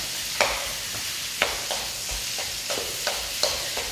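Food sizzles steadily in a wok set to about 375 degrees while a utensil scrapes and tosses it in repeated sharp strokes, about once every half second.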